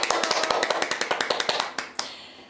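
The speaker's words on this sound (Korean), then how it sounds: "다시 한번 우리 교수님께 감사의 마음 전하면서 박수 보내드리겠습니다" Applause in a lecture hall at a year-end event for patients with rare and intractable diseases and their families: quick, close hand taps, likely from a small group, that thin out into a few last claps.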